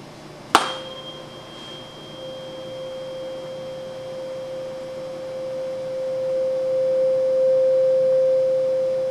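A sharp tap is followed by a sustained pure resonant tone from an air column at 16 centimeters that swells gradually louder over several seconds, ringing steadily with no speech.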